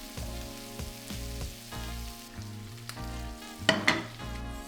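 King prawns fry in a pan with garlic and butter, giving a steady close sizzle with a few sharper spitting bursts near the end. Soft music plays underneath.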